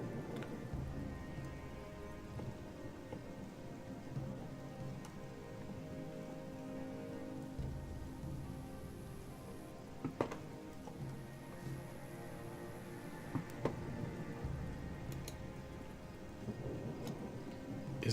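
Steady rain falls in the medieval fantasy video game Gothic 2 as a constant hiss, with faint rumbles and occasional sharp ticks. No one speaks.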